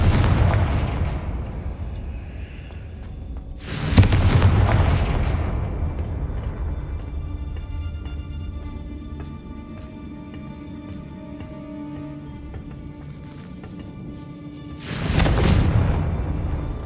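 Confringo spell explosions in the Hogwarts Legacy video game: two heavy booming blasts about eleven seconds apart, each with a long rumbling decay over a low ambient background.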